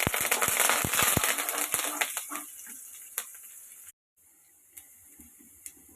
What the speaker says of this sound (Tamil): கடுகு கருவேப்பிலை நல்லா பொரிஞ்சிருச்சு.